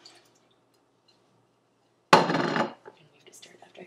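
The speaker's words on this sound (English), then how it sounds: "First, we throw in the diced tomatoes." Diced tomatoes drop into a stew pot with a single wet, splashing thud and a short clatter, after a quiet pause and followed by faint kitchen noise.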